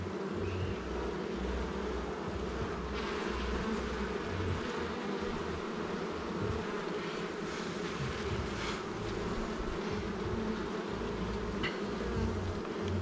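Honeybees swarm and buzz in an opened beehive, a thick, constant hum that is close and steady throughout with no voices.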